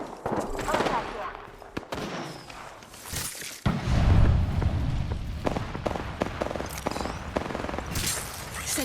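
Automatic weapons fire in the video game Apex Legends, with rapid bursts and single shots among game effects and a heavy rumbling stretch, loud and near.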